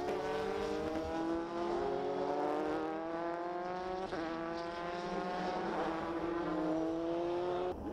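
JAF F4 race cars on a formation lap at Motegi, engines droning with steady layered pitches that shift as they accelerate and lift while warming tires, heard continuously at moderate volume without speech.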